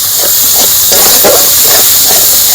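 Grated tomato hitting a pan of hot ground spice paste for a Bengali jackfruit curry, giving a loud, continuous close hiss and sizzle with a few soft bumps.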